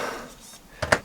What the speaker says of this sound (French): Les tiroirs ferment bien, c'est du costaud.